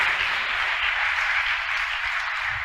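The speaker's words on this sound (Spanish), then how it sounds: "Ese aplauso es de aprobación." A church congregation applauding during a sermon, heard as a steady, even wash of many hands clapping at once, with no talking.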